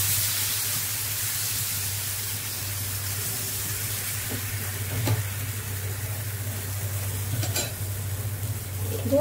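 Thin tomato omelette batter frying in a pan, a steady broadband sizzle holding level throughout with a constant low hum beneath and a couple of brief clinks, no talking.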